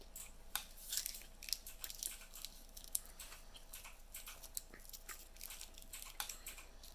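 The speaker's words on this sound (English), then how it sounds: "Don't mind me chewing on candy as it spins around." Someone chews candy close to the mic, giving irregular crunchy, clicky bites over a quiet room hum with no talking.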